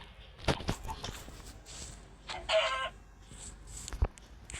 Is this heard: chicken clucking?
yes